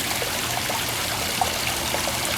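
Water from a backyard garden waterfall pours and splashes steadily, a constant close rushing wash with no talk over it.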